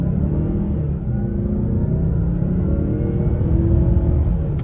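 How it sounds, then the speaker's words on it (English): A 2022 Mazda CX-9 Touring with a 2.5-liter turbo engine pulls away hard from a standstill, a loud, steady low rumble and rising drone heard from inside the cabin, with no talking. "Try an acceleration off the line."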